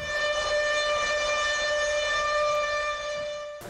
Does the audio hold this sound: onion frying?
no